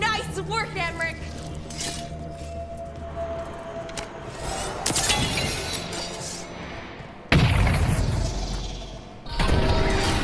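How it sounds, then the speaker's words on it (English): Chains shatter in Dragon Age: The Veilguard with loud, bright breaking crashes, two sharp impacts standing out late, over a steady game ambience and voices. "Shattering those chains will free the bell."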